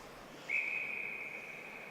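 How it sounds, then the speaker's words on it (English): A referee's whistle at a bantam ice hockey game gives one long, shrill steady blast lasting over a second, clear above faint arena murmur. "we're going to get a whistle"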